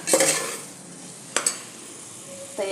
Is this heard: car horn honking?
no